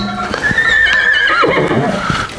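A horse in a paddock gives a loud, close whinny that rises and then trails off, with faint hoof sounds underneath.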